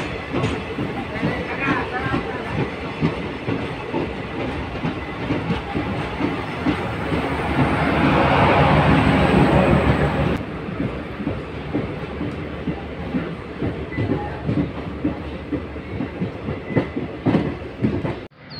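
A DMU special passenger train, number 07526 from New Bongaigaon to Siliguri Junction, rumbles along the rails in Assam with steady rhythmic clickety-clack and a swelling roar midway, loud and close, with voices in the background.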